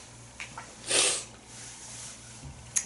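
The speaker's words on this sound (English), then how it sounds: "I've been sneezing" A single sharp, close sneeze bursts out from a man sitting indoors, brief and loud against a quiet background hum, followed by faint breaths.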